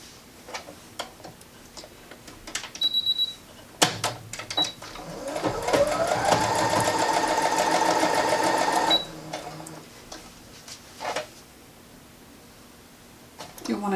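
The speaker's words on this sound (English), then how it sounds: "I'm just going to sew straight along each side." Sewing machine fitted with a walking foot stitching straight seams on a wheelchair coat, a steady fast mechanical whir running for about five seconds between softer handling clicks and taps.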